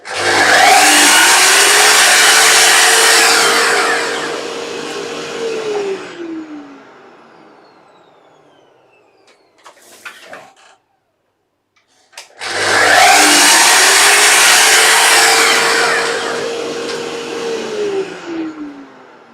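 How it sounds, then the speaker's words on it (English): Drop saw trimming a sliver of wood for an apothecary chest box: two loud, close cuts, each a sudden roaring whine that holds and then winds down, separated by a short quiet gap with light clatter. "on a drop saw. So back and forth here a couple of times"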